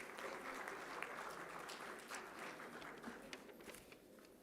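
Steady applause from the audience at a university convocation ceremony fills the hall, a dense, even wash of many hands clapping that holds throughout, faint and somewhat distant.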